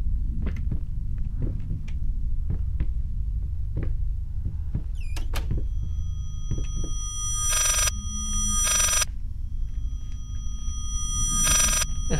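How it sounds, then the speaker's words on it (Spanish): Telephone ringing in the horror video game Layers of Fear, two long bright electronic ring bursts separated by a pause, then a third, over a low rumbling ambience with scattered knocks and creaks. "Eso es un teléfono."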